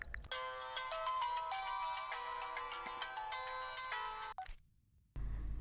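A phone ringtone plays a bright, repeating electronic melody for several seconds, then cuts off abruptly into a brief silence.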